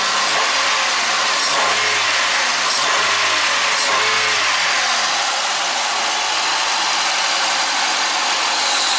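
A 1998 Ford Escort engine idles after a rebuilt cylinder head install, with a steady broadband hum, a few uneven low pulses early on, then a smoother, even idle.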